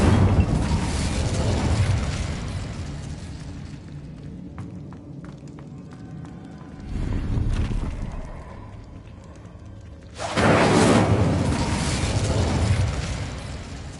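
Incendio fire spell cast in Hogwarts Legacy, heard as loud roaring whooshes of flame, a broad rushing burst at the start, a shorter flare midway and a second strong blast near the end, over quieter game ambience.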